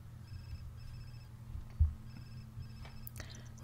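Phone ringing inside The Sims 4, heard as short, faint repeated electronic rings in two bursts over a low game hum, with no one talking.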